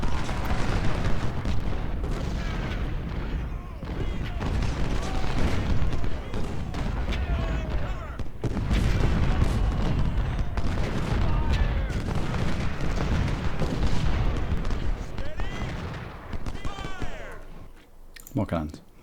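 Cannon artillery fire in the Civil War strategy game Ultimate General: Civil War, a steady battle din of repeated booms and gunfire running loud and continuous throughout, mixed with talk over the top.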